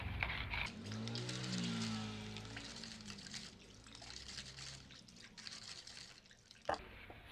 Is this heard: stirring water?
yes